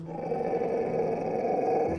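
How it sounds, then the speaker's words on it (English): Dog growling in a dark room at night, a low continuous rumbling snarl held steadily and fairly close, alone with no voices. "and Mandy was growling."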